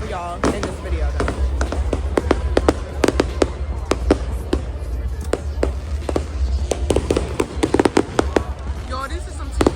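Fireworks burst in a rapid irregular barrage of sharp cracks and pops, some near and loud, others softer, with a steady background rumble and crowd noise underneath.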